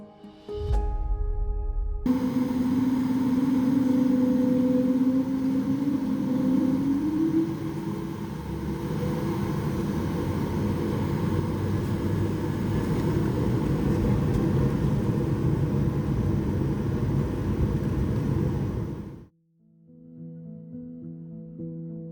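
An Air France Airbus A220 airliner, heard from inside the economy cabin, builds to a loud, steady engine roar and rumble on its takeoff run, holding for many seconds before dropping off abruptly.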